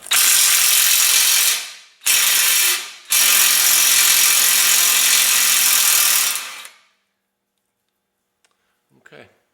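Half-inch drive ratchet loosening a bolt on a 2002 Honda Rancher 350 ES, three loud bursts of rapid close clicking separated by short pauses, then near silence with faint taps.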